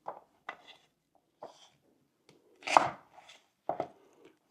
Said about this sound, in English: Go ahead and cut your onion in half like this.